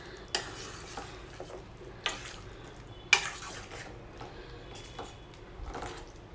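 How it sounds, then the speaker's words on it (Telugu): Ridge gourd masala curry frying in a pan as it is mixed, with a soft steady sizzle broken by a few sharp spoon knocks and scrapes against the pan, close and fairly quiet. "బీరకాయ యాడ్ చేసిన తర్వాత ఒక 2 మినిట్స్ పాటు ఇదంతా బాగా కలిసేటట్టు మిక్స్ చేసుకుంటూ"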